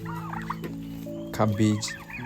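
Farm turkeys gobble repeatedly nearby in a rapid warbling chorus, with a louder burst partway through, over a steady low hum and no talking.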